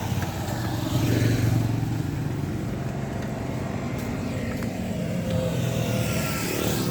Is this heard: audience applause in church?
no